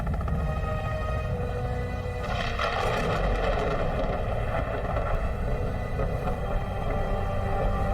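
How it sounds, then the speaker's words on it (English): Helicopter in the Sons Of The Forest game intro carrying passengers toward an island, heard as a steady, loud rotor-and-engine drone with wind rush that swells slightly midway and continues unbroken throughout. "the intro starts off with you in a helicopter going to an island"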